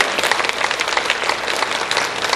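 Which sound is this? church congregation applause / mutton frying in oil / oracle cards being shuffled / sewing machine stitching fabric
church congregation applause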